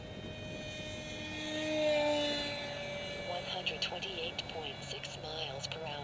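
Delta Mig v3 RC jet plane making its maiden flight overhead, a steady distant engine whine that swells briefly and fades, with a voice talking over it near the end.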